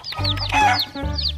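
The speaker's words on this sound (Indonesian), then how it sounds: "Ayam rainbow lagi." A colorful rainbow-dyed chick or chicken makes a quick series of close, high chirping clucks, several short calls over little more than a second.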